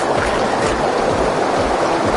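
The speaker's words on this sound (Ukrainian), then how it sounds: "Ну і ось перша річка." A wilderness river near Carcross, Yukon, rushes past in a loud, continuous broadband roar of flowing water, close and steady with no voices.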